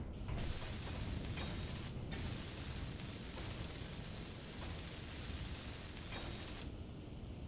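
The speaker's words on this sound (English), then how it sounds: "let's get that welded up" In Space Engineers, a welder runs as a steady, dense hissing buzz with a rattling mechanical grain, fairly faint but continuous, briefly cutting out and resuming.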